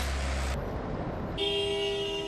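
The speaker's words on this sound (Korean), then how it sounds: "자동차 소리," Road traffic hums with engine rumble as a car horn toots, then a sustained honk blares over the noise of passing vehicles.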